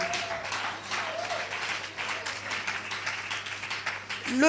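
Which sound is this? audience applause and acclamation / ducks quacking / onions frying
audience applause and acclamation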